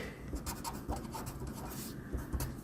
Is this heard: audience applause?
no